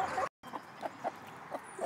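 Hens cluck in a high tunnel at a chicken composting setup, giving several short mid-distance clucks over a steady background hiss, with one brief dropout near the start.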